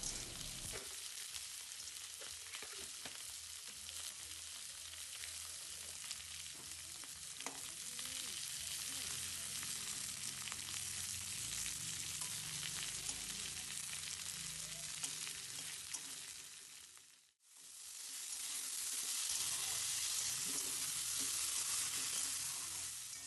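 Potato, green chilli and five-spice frying in oil, with a steady hissing sizzle and occasional stirring that briefly drops out before the sizzle returns, close but fairly quiet, with no talking.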